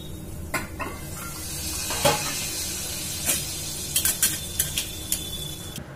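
Sliced pointed gourd frying in a pan and being stirred without a spoon, a steady sizzle under scattered scrapes and clinks of the pan, no talking.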